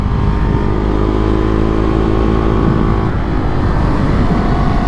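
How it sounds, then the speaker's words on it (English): A 2022 Husqvarna Vitpilen 401 motorcycle engine braking while downshifting uphill into corners, a loud, steady engine drone with a shift in pitch partway through, heard close up from the rider's position with wind rush. "You can just downshift and engine brake into these corners."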